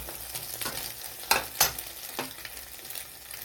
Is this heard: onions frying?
yes